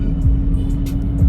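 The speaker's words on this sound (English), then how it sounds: "trying to capture the exhaust note of this car is not easy to do" Chevrolet Corvette C8 Z06 exhaust in a garage: a steady, loud, low engine drone with a constant hum, close to the microphone and without speech.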